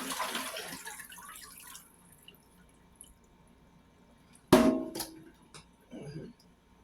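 Water poured out of a pot into a kitchen sink after boiling oxtails, faint running and dripping at first, then a sudden louder splash and gush partway through, followed by scattered drips.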